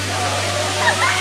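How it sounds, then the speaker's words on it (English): A Puerto Rico waterfall pours as a steady broadband rush of falling water, loud and continuous with a low hum beneath, while a voice speaks over it. "This waterfall is perfect for jumping,"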